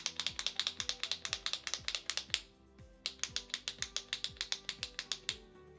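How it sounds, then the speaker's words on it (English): Beautycounter under eye concealer pumped from a pump bottle gives a rapid run of sharp, evenly spaced clicks that pauses briefly and then resumes, close and distinct with no voices. "I just have to pump it out"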